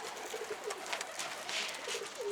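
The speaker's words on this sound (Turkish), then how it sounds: "Kuşlarımız burada. Köprünün kuşları havada." Domestic pigeons by a bridge give soft, repeated calls and wing flutters at close to middle distance, with broadband outdoor noise under them and no talking.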